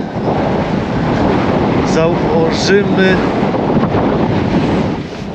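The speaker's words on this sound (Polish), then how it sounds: "jest problem z silnym wiatrem" Strong wind roars and buffets the microphone without pause on a perch fishing trip, with someone speaking briefly partway through.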